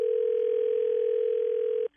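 Steady telephone dial tone on a landline or phone line while setting up a three-way call, one continuous loud hum for about two seconds before cutting off abruptly.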